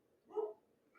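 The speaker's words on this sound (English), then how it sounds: "Apologies about my dog barking." A single short bark from a dog somewhere indoors, faint and somewhat distant, standing alone against a quiet background.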